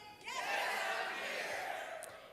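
At a talk, an audience lets out a loud, sustained cheer of many voices that swells quickly and holds for about two seconds before easing off slightly.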